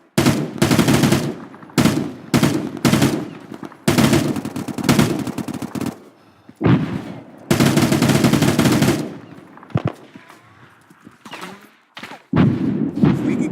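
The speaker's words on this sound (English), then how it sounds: "We have some, obviously, fire on us still." Rapid bursts of automatic gunfire and single shots in an Arma 3 military drill, loud and close, alternating with brief gaps, with voices faintly under the firing in places.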